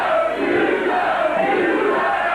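A large wrestling crowd roars in a loud, continuous wall of cheering and shouting that fills the whole moment without a break.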